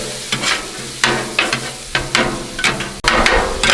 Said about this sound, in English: Those eggs are going to pretty much cook instantly.